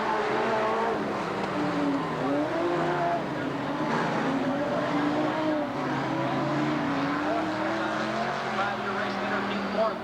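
Late model race cars roar around the track on an opening lap in 1990, their engines droning and shifting pitch as they pass in a continuous loud pack under an announcer's voice.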